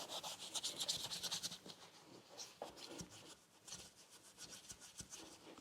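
Steel being scraped by hand to strip brown rust-like grime from a Royal Enfield Classic 350 exhaust mounting, rapid rhythmic rasping strokes in bursts, close and moderately loud, with no voices.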